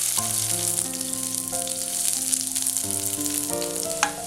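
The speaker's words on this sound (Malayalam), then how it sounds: "ഇതിലേക്ക് നമ്മൾ അരിഞ്ഞു വെച്ചേക്കുന്ന സവാളയിൽ നിന്ന് കുറച്ച് സവാള എടുത്ത് ഇട്ട് കൊടുക്കാം." Sliced onions frying in ghee and coconut oil for egg biryani, a steady, close sizzle alongside sustained musical tones that shift pitch every second or so.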